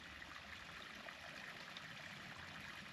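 A small stream trickles at a trail water source along the Appalachian Trail in Georgia, a faint, steady babble of running water with no pauses.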